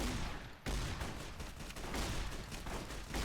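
Heavy anti-materiel rifle fire in Fallout: New Vegas, a dense, loud, continuous barrage of booming shots with one brief dropout, thick with battle noise and no talking.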